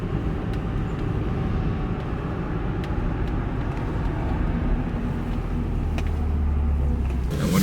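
A Mercedes car drives along with steady, continuous road and engine rumble, a loud broadband roar that holds throughout with no voices.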